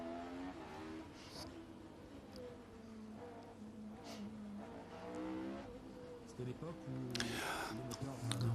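A Formula 1 car with a naturally aspirated engine is heard from an onboard camera, its engine note rising and falling as it revs through gears, with a commentator talking over it and a sharp burst near the end.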